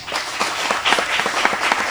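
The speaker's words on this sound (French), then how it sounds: "sur vos applaudissements, s'il vous plaît" Steady applause from a school quiz-show audience, a dense wash of many hands clapping continuously at even loudness throughout.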